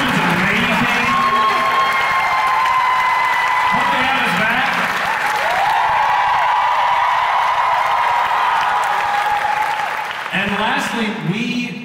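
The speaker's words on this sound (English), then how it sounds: "Can you please give them a big round of applause?" Concert audience at the Strathmore in North Bethesda, Maryland applauding and cheering loudly, a sustained wash of clapping with whoops and shouts rising and falling over about twelve seconds.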